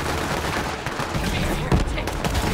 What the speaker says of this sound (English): Oh, they only shooting at me.